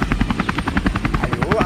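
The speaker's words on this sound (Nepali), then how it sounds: "हेलिकप्टर आयो" A helicopter arrives in a short action film, its rotor beating in a fast, steady chop that stays loud and close throughout, with voices shouting over it.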